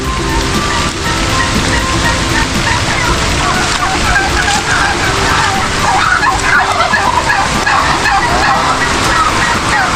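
Poultry in a backyard coop, with dense overlapping gobbling and clucking calls over a steady wash of rain, loud and continuous throughout.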